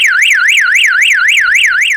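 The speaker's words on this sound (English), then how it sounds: "harder thud, the alarm system is going to go off." Starline S Series car alarm sounding after a hard thud on its shock sensor: a loud, close, rapidly warbling electronic siren sweeping up and down in a steady repeating cycle, with no voices.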